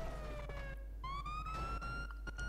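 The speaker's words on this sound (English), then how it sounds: "Damn, that siren is loud." A police car siren in GTA 5 wails steadily and loudly, its pitch sliding down then rising again in long sweeping tones over a constant low hum, with no talk.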